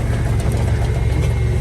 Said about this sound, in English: Does it feel kind of wrong driving into corn this tall?